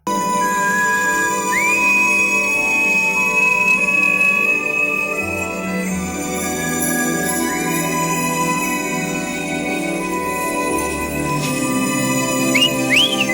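Clear, high whistles through cupped hands rise and hold in sustained tones at intervals over a steady background drone, with a quick chirp near the end.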